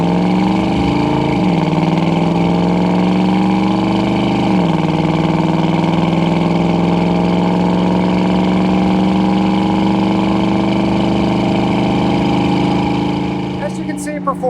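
1969 Chevrolet C10 pickup with a 402 engine and automatic transmission accelerating on a test drive, a loud, steady engine drone with a couple of brief dips in pitch early on before it holds a sustained rising tone.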